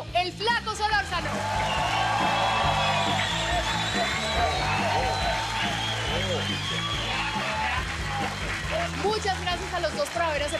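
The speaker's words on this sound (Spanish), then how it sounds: "Señoras y señores, un fuerte aplauso para Fernando, el Flaco Solórzano." A studio audience on a Spanish-language television comedy show claps and cheers in a dense, sustained wash of applause and whoops, loud and close, while a voice speaks over it.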